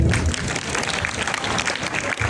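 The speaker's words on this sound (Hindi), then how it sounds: "तो भाई जानजेब के लिए वही तालियां हो जाए" Applause from a group at a coding session, a brief, loud, continuous burst of clapping heard up close.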